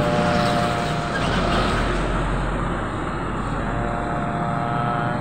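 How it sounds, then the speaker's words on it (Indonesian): A Pertamina tanker truck rolls past in front of a busy roadside market, giving a steady, loud engine drone and broadband road rumble that hold evenly throughout without a clear rise or fall. "Ini dia mobil tangkinya lewat."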